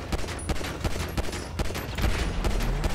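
Gunfire in GTA 5 during a co-op session in Los Santos: loud, rapid bursts of automatic shots in a dense fusillade, with cracks piling over each other for several seconds.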